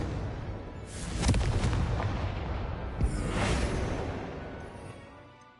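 A Confringo fire spell in Hogwarts Legacy sets off two booming blasts a couple of seconds apart, each with a rumbling tail, at moderate loudness with no talking.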